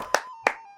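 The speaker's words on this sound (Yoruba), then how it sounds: "Ẹ dẹ̀ bá ń pàtẹ́wọ́ fún wọn." Two sharp hand claps ring out briefly over a faint steady hum, a short burst of audience applause for contestants on a Yoruba-language quiz show.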